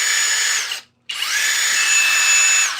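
Woodworking power tool running with a steady, loud high-pitched whine, cut off briefly by a short gap before restarting, its head shaking and rattling as it runs.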